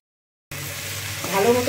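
Papaya and mung dal curry frying in a pan, a steady close sizzle starting abruptly and swelling slightly, brief and without talk.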